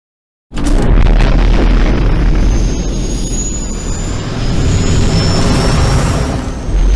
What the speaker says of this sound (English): it's time to fly back to San Jose in our trusty transport, the Millennium Falcon